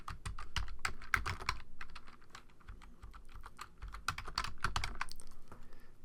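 Rapid, uneven typing on a computer keyboard, close and fairly quiet, with dense clusters of key clicks and short pauses.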